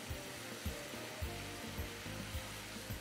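Ingredients sauteing in a pan with black pepper, a steady close frying sizzle with repeated low knocks and scrapes of stirring at a loose rhythm, fairly quiet.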